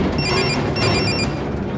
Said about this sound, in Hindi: अब फोन मत काटना मैक्स, गर्भी भी लाइन पे है।